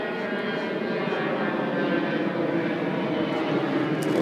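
A Delta airliner passing overhead gives a loud, steady jet roar that holds evenly for several seconds with no break and no voices.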